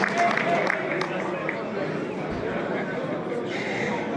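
Audience at a motorsport awards ceremony applauding a prize winner, a steady wash of clapping and crowd chatter heard from within the room, continuing evenly throughout.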